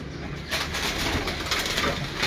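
Long Kalsara pigeons coo softly on a rooftop loft, with low, repeated throaty calls over a light background hiss.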